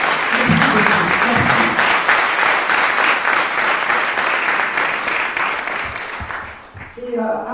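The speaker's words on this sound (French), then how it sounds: "Est-ce qu'on peut l'applaudir?" An audience applauds a guest at a book presentation event on Lumumba, with loud sustained clapping throughout that fades briefly near the end before a voice speaks over a last burst.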